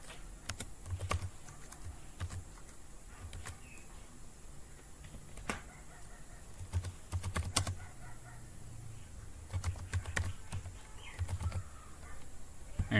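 Computer keyboard keys clack in short irregular bursts while a line of code is typed, fairly close and clear with quiet pauses between runs and faint bird cooing in the background.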